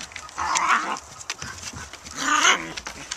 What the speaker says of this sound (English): Here we got five dogs out here, and Logo and Dewey are playing together